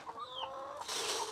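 Backyard chickens on a farm in Cebu clucking, a few short close clucks and a rising squawk, with a brief burst of rustling toward the end.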